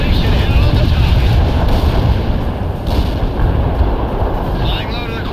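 Rumbling mortar barrage in the World in Conflict strategy game, a dense, continuous low roar of blasts and thuds with wind-like noise, loud and sustained throughout, with radio-style voice chatter over it.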